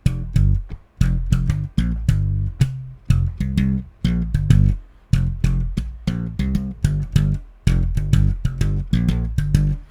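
A punchy, plucked funk bass guitar riff plays alone in short, rhythmic, syncopated bursts with choppy gaps between notes, loud and close.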